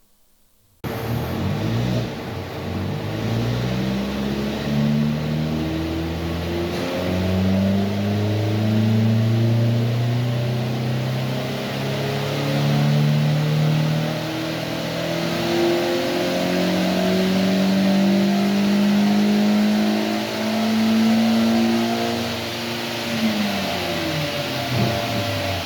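A BMW 116i engine revving up through its gears on a MAHA rolling-road dyno, with a loud, sustained harmonic drone climbing in pitch in repeated sweeps, then easing off near the end.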